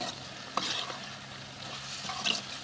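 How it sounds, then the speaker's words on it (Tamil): Ground masala being stirred into pork frying in a village-style pan gives a soft, steady sizzle with a few light scraping strokes, fairly close and quiet, with no voices. "அடி பிடிக்காமல் நல்லா இந்த மாதிரி பேட்டி விட்டுக்கணும்"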